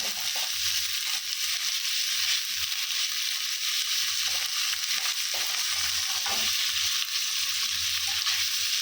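Capsicum frying in a pan produces a constant, close sizzle with soft stirring scrapes and low bumps underneath, steady throughout with no voices.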